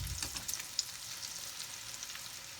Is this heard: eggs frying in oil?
yes